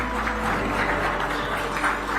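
An audience at a health awards ceremony applauds, a steady dense wash of clapping throughout.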